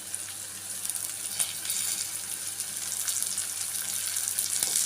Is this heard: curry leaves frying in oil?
yes